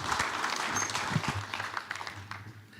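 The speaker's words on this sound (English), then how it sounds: "Another round of applause for our panel members, please" Audience applause at a drone conference expo for panel members, a dense wash of clapping that thins and fades toward the end, with no talk over it.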